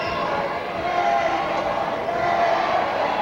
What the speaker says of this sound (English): This crowd starting to come to life